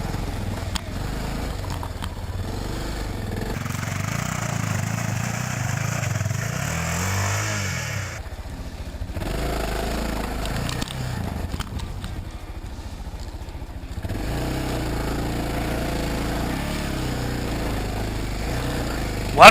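Enduro adventure motorcycle engine labouring and revving steadily while climbing a steep hill, a continuous rough drone with a brief dip midway and wind noise throughout.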